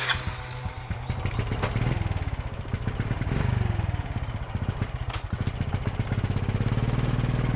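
A motorcycle engine runs steadily on a mountain hiking trail in Davao de Oro, a close, loud, throbbing putter with a slight rise in revs partway through and no talking.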